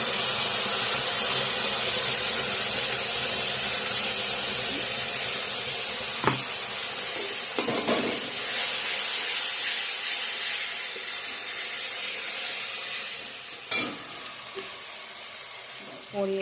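Spice paste of onion, garlic and ginger frying in a pan, giving a loud steady sizzle and hiss throughout with a few faint clinks.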